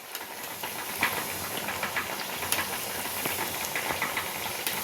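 Kothimbir wadi frying in hot oil gives a steady, dense sizzling hiss with small crackles and pops as the pieces are flipped, close and continuous, with no talking.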